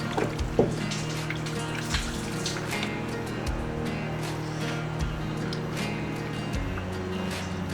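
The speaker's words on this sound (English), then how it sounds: "Now that we're letting some air out, and some water too apparently" Steady gurgling and trickling water with a low mechanical hum beneath, occasional soft knocks and bubbles as air and water escape close by from a Jeep Comanche's radiator system.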